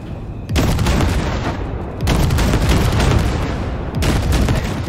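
Heavy gunfire blasting floating wrecks in Cyberpunk 2077, three loud sustained bursts of booming shots starting near half a second, two seconds and four seconds, each rolling straight into the next.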